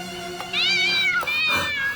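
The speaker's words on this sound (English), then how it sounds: "No, not my distressed cat soundboard." A distressed cat meowing from a soundboard: loud, close, drawn-out wailing meows, a short cry followed by longer rising and falling yowls, with no talking.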